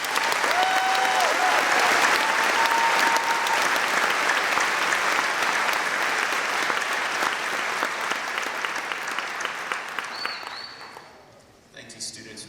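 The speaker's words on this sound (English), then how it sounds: "Let's give them a round of applause." A school awards audience applauds award-winning career-center students, giving sustained loud clapping from a large crowd that slowly fades out toward the end.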